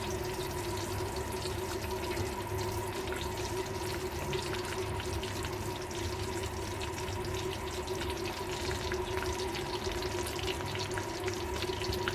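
Hot mustard oil sizzles and crackles steadily in a pan on the stove while vegetables are being cooked, a continuous, even frying hiss with no talking.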